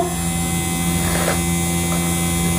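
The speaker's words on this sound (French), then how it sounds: "C'est mon petit ventilo." A small electric fan hums steadily at close range, a constant droning tone with faint whirring, unchanging for the whole stretch and with no voices.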